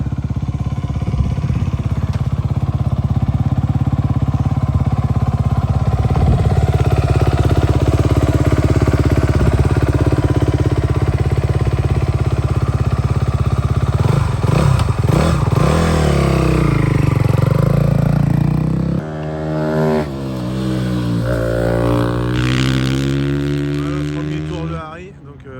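A 250cc racing motorcycle engine idles loudly with a steady low drone, then blips and revs in rising, falling sweeps near the end, close to the listener in a team pit setting.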